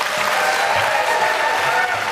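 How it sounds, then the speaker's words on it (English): Steady applause from a studio audience at a televised Florida gubernatorial debate, a dense, even clatter of clapping hands that holds at full strength throughout with no talk over it. "I had asked our audience, if you would, to please not applaud"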